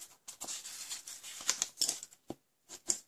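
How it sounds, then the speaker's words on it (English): Paper for a small ribbon box is folded and creased by hand, giving close, crisp rustles and scrapes in uneven bursts with short quiet gaps between them. "Just going to fold and crease"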